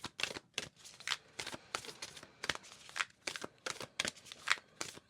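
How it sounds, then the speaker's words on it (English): Oracle cards being shuffled and one pulled from the deck, a close series of quick papery riffles and flicks in uneven bursts, crisp and fairly quiet against silence, with no voices. "Let's go ahead and pull a oracle card to finish this off."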